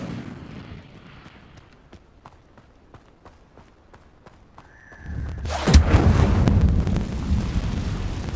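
In the Hogwarts Legacy video game, quiet running footsteps tap along before a brief rising tone, then the Incendio fire spell erupts in a loud, roaring whoosh of flame that keeps burning to the end.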